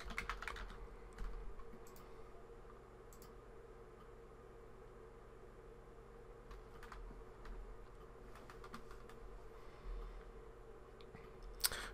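Login credentials being typed on a computer keyboard: soft, scattered key clicks, fairly close and quiet, over a steady low room hum with no talking.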